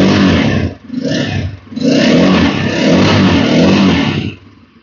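Bajaj Pulsar N250 motorcycle with a 250 cc engine and dual barrel exhaust revving up loudly nearby, three strong throttle bursts with brief dips between, then dropping back to idle.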